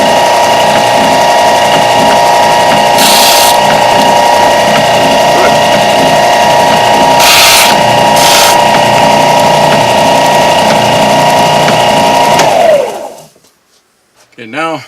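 A belt sander squares up wood ends, a loud steady motor whine with a strong droning hum and brief grinding surges as pieces press against the belt, then the motor winds down near the end.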